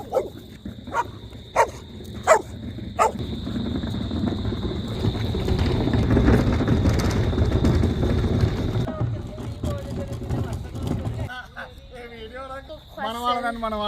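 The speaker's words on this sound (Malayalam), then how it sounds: "അയൽക്കാരൻ്റെ വീട്ടിലെ പട്ടിയാണ് കേട്ടോ." A neighbour's dog at a house with a vegetable garden in Australia barks several times in sharp, spaced bursts, then a steady rumble follows and people talk toward the end.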